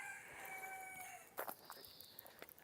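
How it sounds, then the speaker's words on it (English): A cockerel crows on a countryside farm, one long tonal call heard at a moderate distance, followed by scattered faint clucks and soft outdoor noise. "This farm has chickens, and the cockerel is a male chicken and it's crowing."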